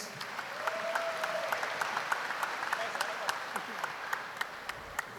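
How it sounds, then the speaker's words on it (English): Audience at a council session applauding the mayor, a soft continuous patter of clapping with a few sharper individual claps and a voice briefly heard. "And again, let's give Mayor Jubito Uwano a big round of applause."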